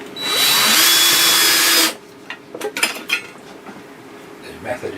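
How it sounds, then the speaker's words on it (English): A handheld cordless drill drives a screw into a board for a cheap DIY storage build, with a loud steady whirring burst lasting under two seconds, then quiet clicks and handling knocks. "You take your drill."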